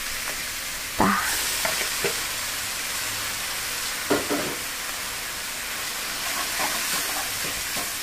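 Half-boiled kenikir leaves stir-frying in a pan give a steady sizzle broken by several sharp scraping stirs, close and clear, with a single brief spoken syllable.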